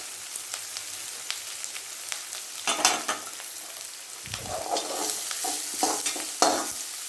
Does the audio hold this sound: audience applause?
no